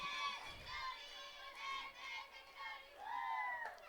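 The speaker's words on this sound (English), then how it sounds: "As you could probably tell by the chants" Parents and fans chant together at a Grinnell Tiger softball game against DCG, after rain: rising, falling voices in a loose rhythmic group, moderately distant, with a higher swell near the end.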